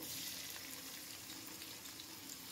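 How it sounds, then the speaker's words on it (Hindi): Finely chopped onions frying lightly in a pan for chicken pulao give a soft, steady sizzle, fairly faint and even, with no voices. "प्याज ऐड करने के बाद इनको भी मैं हल्का सा फ्राई करूँगी।"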